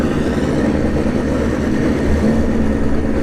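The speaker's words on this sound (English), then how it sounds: "this is the buy run here for the custom Kawasaki" A custom Kawasaki drag racing motorcycle makes a run at a bracket-racing drag strip, producing a loud, continuous engine roar that stays steady through the short stretch.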